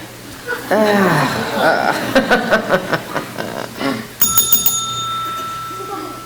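A bell rung on stage during a Kiwanis variety show, a bright ringing strike that comes after stretches of talk and laughter and then rings on, sustained, under continuing voices.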